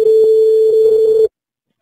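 A telephone busy tone heard after a dropped call, one loud steady beep held for just over a second, then silence.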